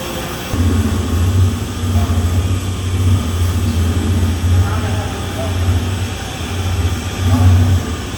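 A big floor grinder runs steadily while a grout coat is worked into a floor, giving a continuous low mechanical drone with a pulsing hum that rises and falls in waves.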